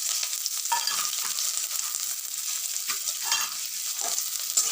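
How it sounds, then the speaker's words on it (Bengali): Chopped onions hiss and sizzle in hot oil in a pan while being stirred, with a continuous bright frying noise and intermittent scraping strokes, no talking. "এবার কুচানো পেঁয়াজগুলো দিয়ে দিলাম"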